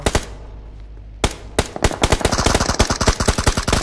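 Rapid bursts of automatic gunfire from PUBG, a brief burst, a pause, then a loud sustained volley of dense shots ringing out close and alone.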